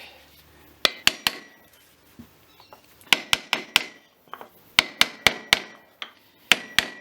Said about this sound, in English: just give that a few taps on either edge.